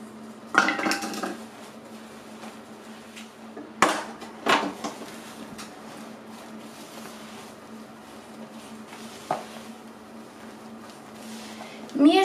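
A spoon or whisk mixes Christmas cake batter with coconut flakes in a bowl, giving a few sharp clinks against the bowl over a steady low hum, with long quiet stretches between strokes.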